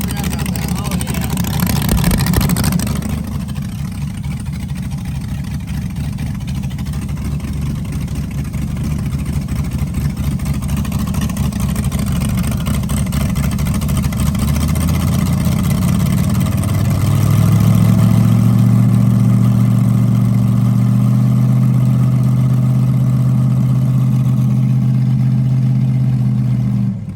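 A car engine with a slight exhaust gasket leak idles steadily and loudly up close, with a low rumble that deepens partway through, while people talk over it.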